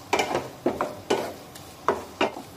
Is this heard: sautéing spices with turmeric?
yes